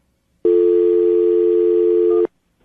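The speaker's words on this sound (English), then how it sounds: "I'm going to dial the number right now, see if we can get her on the phone" A telephone line gives one steady, loud tone lasting almost two seconds, close and alone, then cuts off sharply.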